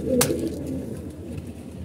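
Pigeons in a loft coo in a low, continuous murmur close by, with a brief sharp knock near the start and no talking.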